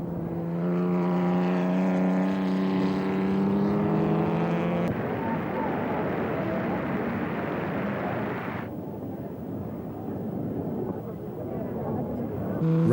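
Several 1930s racing cars, Altas, MGs, Bugattis and ERAs, roar around the outer circuit of a British track, a dense, continuous engine drone with shifting pitch as the cars pass, though narration talks over much of it.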